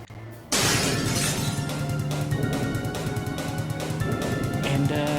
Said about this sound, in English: that sound of that glass breaking and that music playing usually startles the crap out of me